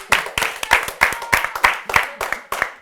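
Audience applause for prize winners at an event: a steady run of sharp, fairly close hand claps at an even rhythm, a modest group rather than a large crowd.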